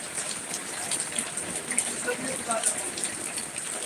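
Steady rain falls in a continuous, even hiss with scattered drops, with a faint voice beneath it.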